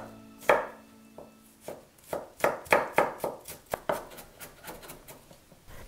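A knife chops a crushed, peeled garlic clove on a board in a home kitchen, about a dozen sharp, irregular taps, close and clear, with short pauses between bursts and no talking.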